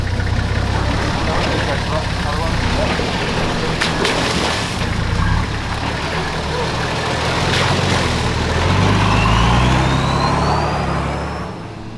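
A 4WD vehicle descending a steep, rocky hill on a tough off-road track, its engine a steady low rumble throughout, close and fairly loud.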